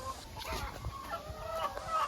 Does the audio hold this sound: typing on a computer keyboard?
no